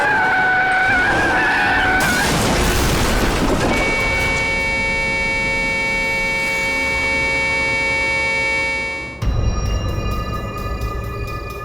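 A car skids with a loud tire screech, then a sustained metallic ringing, cutting to a harsh crash and debris clatter near the end, staged as a dramatic road accident effect.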